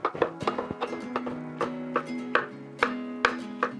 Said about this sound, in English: I'm just going to give this a rough chop